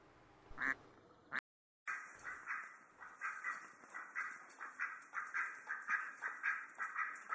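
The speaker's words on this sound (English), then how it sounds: "A duck's quack does echo" A duck quacks in a steady rhythmic series of echoing calls, preceded by a brief sharp sound and a short silence, moderately loud and reverberant as if bouncing off nearby surfaces.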